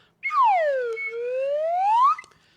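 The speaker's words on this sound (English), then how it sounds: "And we're going to end this thing the way we started, with a mother love slide whistle." A slide whistle swoops down and then glides back up in one smooth, loud tone that rings out clearly against silence.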